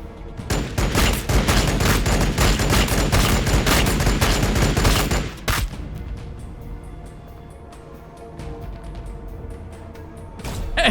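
Long-distance gunfire in Warhammer 40,000: Battlesector rattles in a dense, loud fusillade of rapid shots for about five seconds, then drops to sparse, fainter pops and thuds under a low background rumble.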